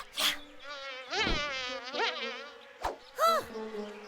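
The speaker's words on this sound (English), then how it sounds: "We're supposed to be catching bugs, remember?" Cartoon bugs buzzing, several short whiny buzzes rising and falling in pitch that come and go in quick bursts, fairly faint, with no speech.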